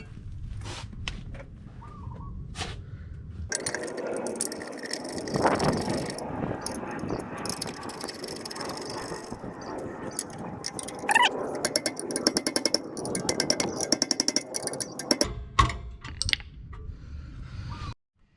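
A hand ratchet screwing bolts back onto rear brake parts of a 2010 car, with repeated metallic clicking and rattling, bursts of mechanical ticking and clanks close by in a garage, no talking.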